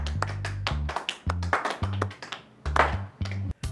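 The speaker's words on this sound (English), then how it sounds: "Let's have a round of applause for the team." An audience on a home-improvement show claps for the team, a round of uneven, crackling applause over low music, rising and dipping in bursts.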